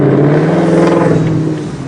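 2024 Ford Mustang GT V8 with Kooks headers in track mode, a loud, raspy exhaust roar with a steady low drone and pulsing rumble, easing off slightly near the end.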